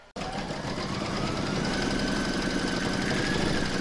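An embroidery machine stitches in the hoop while making a placemat, starting abruptly and running as a steady close mechanical whir with a fast rhythmic needle chatter.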